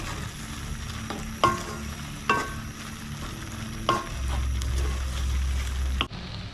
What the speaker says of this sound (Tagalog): Parang igisa muna natin nang wala siyang tubig para mas masarap.